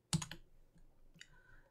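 A computer keyboard shortcut, Control X, struck once as a sharp close click burst, followed by a brief faint second tap, with no talking.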